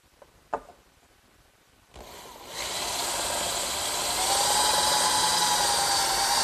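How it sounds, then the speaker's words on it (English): After a brief quiet stretch with a single knock, a power drill starts up and bores holes in clamped wood, running continuously, its whine growing slightly louder and steadier toward the end. "I'm just going to use a clamp to hold it together while I drill the holes."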